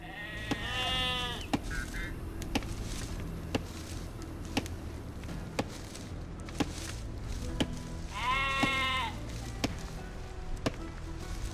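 Sheep bleating in the Age of Empires video game, two distinct wavering bleats a few seconds apart, clear over a steady game background with scattered sharp clicks and thuds.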